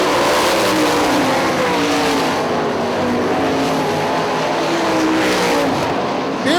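Sprint cars race around Hartford Speedway Park, a loud continuous roar of several engines with rising and falling whine as they pass through the corners, and tire noise mixed in.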